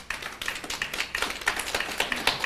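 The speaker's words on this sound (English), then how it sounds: "that deserves a round of applause" Brief, fairly faint clapping from an audience at a civil service public forum, a handful of scattered hand claps building over a couple of seconds.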